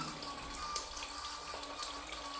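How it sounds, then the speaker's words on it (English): A small solar-powered DC pump runs a water fountain, giving a steady trickling, splashing flow of water with a faint motor hum underneath, continuous and fairly quiet throughout. "The motor is pumping water."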